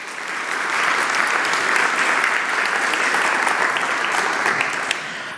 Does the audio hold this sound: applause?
yes